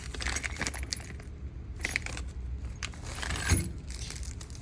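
Metal nuts and bolts from a Dodge Challenger/Charger 5.7–6.4 supercharger kit jingle and clink as they are handled, a scattered series of light metallic rattles and taps, near and fairly quiet, with no talk.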